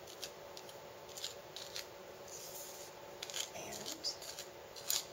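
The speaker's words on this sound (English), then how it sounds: "then you take a knife, go along the edges," A knife trims the edges of rolled pie crust dough, giving faint, soft scraping and cutting strokes in short, irregular bursts, close by and quiet.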